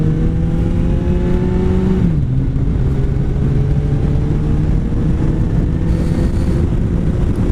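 A Kawasaki Concours 14 with 105,000 miles pulls away on a test ride, its engine droning loud and close under steady wind roar, pitch climbing, dipping at a gear change, then rising again.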